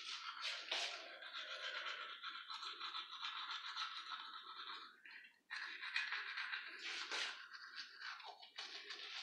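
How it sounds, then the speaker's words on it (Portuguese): A pink toothbrush scrubs teeth in close, brisk back-and-forth strokes, a steady bristly scratching that pauses briefly midway before resuming. "Gente, agora eu vou escovar o dente."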